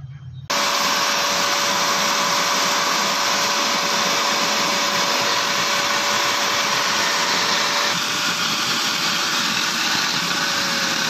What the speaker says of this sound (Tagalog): So gagamitan lang po natin ng vacuum para ma-dry po natin kasi wala pong mga butas po ito.